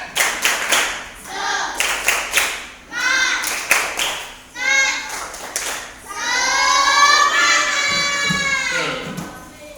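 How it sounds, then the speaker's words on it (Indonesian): A classroom of children claps a rhythmic spirit chant in short bursts of brisk patterned claps, broken by pauses and children's shouted voices, ending in a longer stretch of loud cheering and clapping. "Biar semangat kita tepuk semangat dulu"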